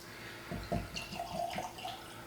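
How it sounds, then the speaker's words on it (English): Wild Turkey Master's Keep Unforgotten bourbon pouring into a glass, a brief soft gurgle and splash of liquid lasting under two seconds, fairly quiet and close. "we're gonna do pour into the glass here of this Wild Turkey Unforgotten"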